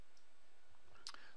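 A computer mouse clicks near the end, one or two quick sharp clicks over a faint room hiss.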